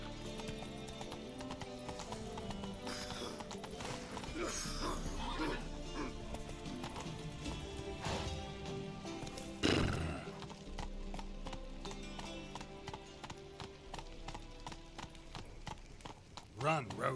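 Roach the horse gallops in The Witcher 3, rapid hoof clip-clops drumming steadily over game music, with a brief neigh and some voices speaking over the ride.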